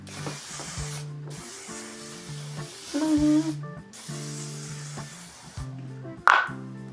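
Three long bursts of hairspray hiss, each a second or more, with a gentle musical backing running underneath.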